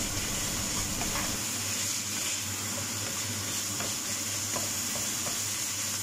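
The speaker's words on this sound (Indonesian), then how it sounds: "Ditumis hingga matang ya, hingga matang sampai terlihat minyaknya ya, sampai keluar minyaknya gitu ya teman-teman." Ingredients stir-fry in hot oil until cooked, giving a steady, close sizzle that holds throughout, with soft scraping from occasional stirring and no voices.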